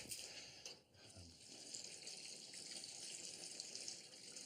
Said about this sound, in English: Give them each a little bit of water.